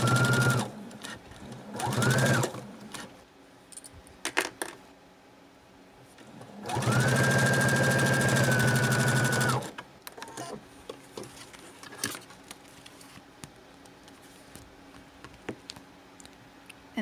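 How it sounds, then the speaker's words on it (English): Sewing machine stitching vinyl pocket pieces in two short bursts and one longer run of rapid, even whirring, near and clear, with quiet clicks and handling noises between runs. "So once you stitch your first pocket piece, you're going to stitch your next pocket piece."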